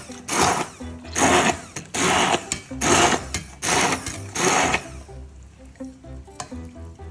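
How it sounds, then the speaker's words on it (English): Stick blender pulsing through cooked spinach with coconut, chili and onion, five loud whirring bursts in close succession, then quieter clatter and handling as it stops. "So I'm going to use the stick blender and just mash it up a bit like this, roughly chop it."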